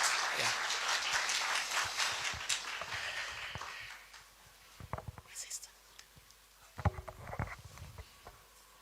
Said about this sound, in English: we can welcome her with a round of clap.